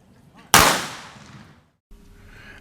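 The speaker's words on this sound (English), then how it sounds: "21 Guns Salute" Rifles firing a 21-gun salute at a military ceremony: one loud, sharp volley that rings out and echoes away over about a second, outdoors, with faint background noise around it.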